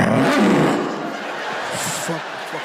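A comedian voices a loud, rough imitation of a lion's roar, a broad growling burst in the first second that trails off into noisy background and scattered voices.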